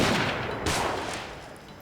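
Musket volleys in the video game Fall of the Samurai, set at the Battle of Aizu, fire as a loud, dense burst of overlapping shots that fades into a rolling echo over about two seconds.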